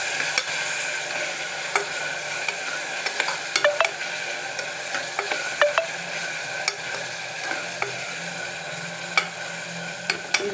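Onions and ginger garlic paste sizzle softly in hot oil, with a steady frying hiss broken by frequent sharp scrapes and clinks of a spoon stirring against the pan.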